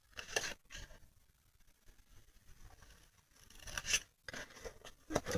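Scissors cutting fabric or material for bags and boxes, faint close snips and rasping slides in a few bursts separated by quiet pauses.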